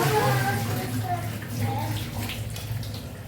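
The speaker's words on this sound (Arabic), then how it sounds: "هننضفها الخضرة بس هننقعها بقى نغسلها كده." Leafy greens are swished and rinsed in water, a close splashing and sloshing with a voice speaking over it.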